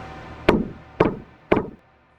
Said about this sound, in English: Knocks echoed in other rooms.